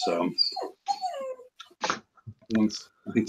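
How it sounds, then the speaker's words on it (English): A puppy whines and whimpers in short high-pitched bursts, mixed in with people talking nearby over a headset-style chat. "we can hear the puppy whining"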